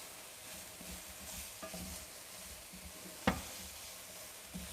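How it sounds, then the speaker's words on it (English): A spoon stirs prawn bolognese sauce in a pan over a quiet, steady sizzle, with one sharp knock of the utensil against the pan partway through. "And this one over here, give that a good nice stir."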